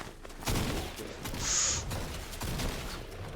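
Gunfire in Fortnite ranked play sounds as bursts of rapid game shots under excited talk, with one short high-pitched effect in the middle.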